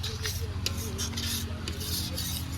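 Gram flour (besan) roasting in a thick-bottomed kadhai while being stirred continuously, giving a steady close scraping and rubbing texture with faint sizzle over a constant low hum.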